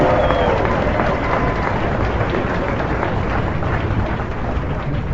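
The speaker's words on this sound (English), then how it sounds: "let's give the rest of our committee a round of applause" A large outdoor crowd at the Fancy Farm Picnic political forum gives the picnic committee a dense, sustained round of applause, loud and continuous throughout with a few voices mixed in.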